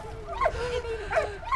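A dog in the World War One game Valiant Hearts gives a few short, whiny yelping barks, close and fairly loud, over a steady background tone.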